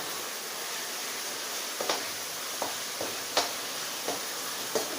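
Chillies and spices stir-fried in a pan for a Marathi uttapam-style recipe: a steady soft hiss of frying with several sharp spatula scrapes and taps spaced through the second half.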